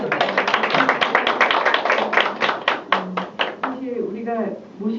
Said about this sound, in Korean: 서진 대표님한테 정말 감사드리고 싶은데 박수 한번.